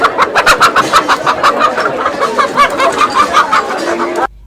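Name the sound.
local-breed chickens clucking at a market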